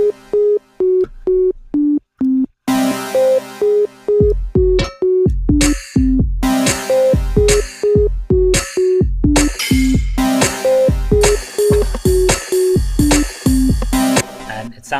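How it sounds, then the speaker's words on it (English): A synthesizer plays a chord over a sine wave bass line, heard alone as a loud sequence of repeated sustained notes with rhythmic stops and steps in pitch. "if I just play the chord and a little sine wave, it sounds like this."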